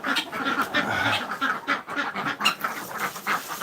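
Ducks quack busily in a close flock, overlapping honks and calls in an uneven, continuous chatter.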